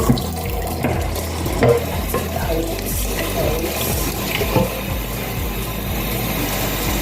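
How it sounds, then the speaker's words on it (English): Tap water runs steadily into a sink while rice is washed by hand, a continuous splashing flow with occasional louder sloshes and clatters of grains and bowl. "So that means the rice you washed it properly."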